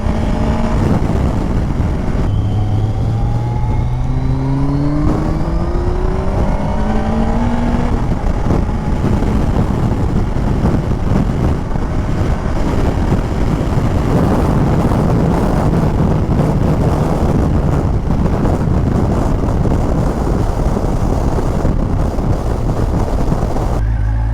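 A Kawasaki ZZR 1400 motorcycle engine accelerates hard, rising in pitch through several gear changes before settling into a steady roar, all under heavy rushing wind noise.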